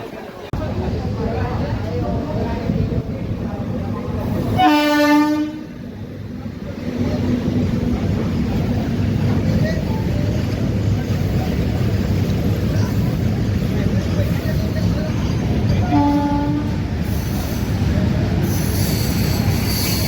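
A train pulls into Madgaon railway station, its wheels letting out sharp, tonal squeals in two distinct bursts over a continuous low rumble of rolling carriages, loud and close, with faint voices in the background.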